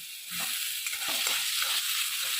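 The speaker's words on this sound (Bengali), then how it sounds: "হালকা করে রসুনটা আমি ভেজে নেওয়ার পরে এখানে আমি টমেটো কুচো এর মধ্যে দিয়ে দিলাম" Chopped tomato hitting a pan of lightly fried garlic, a steady bright sizzle close up with a few soft stirring knocks underneath.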